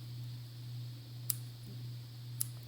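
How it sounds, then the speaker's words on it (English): Two crisp scissor snips trim threads on a handmade junk journal, spaced about a second apart and fairly faint over a steady low electrical hum. "trim my threads a little closer"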